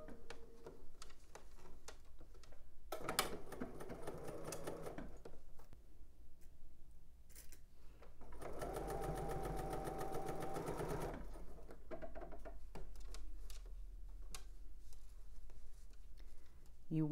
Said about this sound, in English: I'm stitching half an inch around the neck band